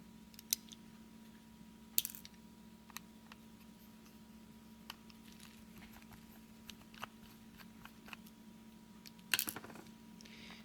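Phillips 000 screwdriver turning tiny screws out of a Nintendo 3DS XL handheld: faint, sparse clicks and small scraping ticks at close range over a quiet steady hum, with a couple of louder clatters.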